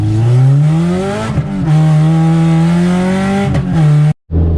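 A K-swapped car being driven, its engine a loud, steady drone that climbs gradually in pitch, dips briefly twice as if shifting, then cuts off abruptly near the end.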